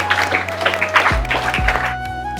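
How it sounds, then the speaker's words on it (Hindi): A school event audience applauds to welcome a guest, with dense, steady clapping throughout and background music with low thumps underneath. "तालियों के साथ शानदार स्वागत।"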